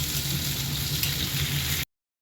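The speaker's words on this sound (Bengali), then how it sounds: "আর একটু লঙ্কা দিয়ে দিলাম, দিয়ে এবার একটু নেড়ে চেড়ে ভেজে নেবো" Ginger, garlic and whole green chillies fry in hot oil in a kadahi, a steady, even sizzle close up that stops abruptly.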